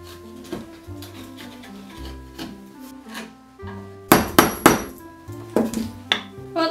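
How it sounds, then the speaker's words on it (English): A 5/8 chisel cutting a mortise into 2x6 lumber, with a series of sharp tapping strikes and scraping wood sounds at an irregular rhythm, growing into a cluster of louder hammer blows partway through. "To avoid overcutting here, I'm using a chisel that's 5/8"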